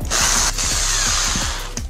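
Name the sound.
electric drill drilling a cable hole for a lamp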